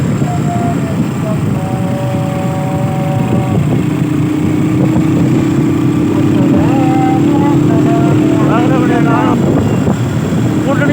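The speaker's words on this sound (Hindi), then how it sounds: "बाइक जनाब उड़नियाँ जा रही हैं" Several motorbikes in a large road rally roar past in Samahni, Azad Kashmir, at dusk, their engines droning loudly and continuously with rising and falling revs as speech carries on over them.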